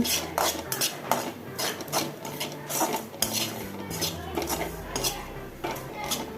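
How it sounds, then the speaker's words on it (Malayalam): A spoon scrapes and clinks against a pan as coriander powder is stirred into a Kerala bitter gourd curry with roasted coconut. The strokes are close and rhythmic, a busy metallic rasp that stays steady throughout. "നല്ലപോലെ ഇളക്കി കൊടുക്കുക"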